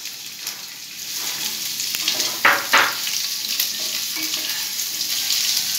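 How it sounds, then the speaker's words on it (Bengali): Chopped onions dropped into hot oil with garlic, giving a loud, steady sizzle and hiss close by, with a couple of sharper crackling bursts partway through as they are stirred. "এবার আমি বড় বড় 2 পেঁয়াজ কুচিয়ে রেখেছিলাম সেটা এর মধ্যে ছেড়ে দিলাম"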